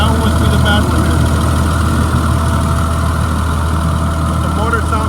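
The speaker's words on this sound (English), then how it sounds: "But the motor sounds great." A 2003 Blue Bird All American 72-passenger school bus engine idles with a steady low rumble, loud and close, its belts missing, with a faint voice underneath.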